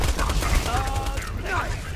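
Rapid gunfire in the co-op shooter Borderlands 2, a dense, loud burst of continuous shots packed with game sound effects, with a faint voice beneath the shooting.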